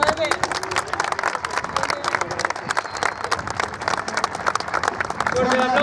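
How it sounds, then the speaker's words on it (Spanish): Crowd applause at a party at the Don Bosco club in Zapala, a dense, steady clapping filling the whole stretch without a break, fairly loud and close, with some crowd noise mixed in. "Fuerte el aplauso para la comisión directiva, para los viejos jugadores del club"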